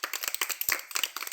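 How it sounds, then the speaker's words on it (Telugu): Children clap loudly and irregularly together in a classroom-style storytelling session, a burst of close, sharp, overlapping hand claps with no talking. "మీకు మీరే క్లాప్స్ కొట్టుకోండి గట్టిగా"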